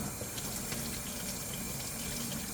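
Hot water runs steadily through a Nissan Kicks 2.0L MR20DD positive crankcase ventilation valve, a constant close hiss and splash like a tap filling a sink, even and unbroken throughout with no talking.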